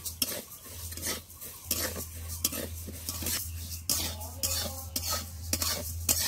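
Moong dal stirred and fried in a pan, a metal spoon scraping and clinking repeatedly against the vessel in an uneven rhythm over a soft sizzle and low steady hum, close and fairly loud.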